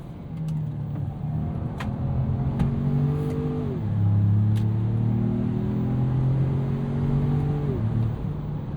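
2025 Ford Maverick Lobo compact turbo truck with a 7-speed automatic accelerating, engine tone climbing through gears with quick shifts dropping the pitch, a steady mid-level drone heard from the cabin without talking.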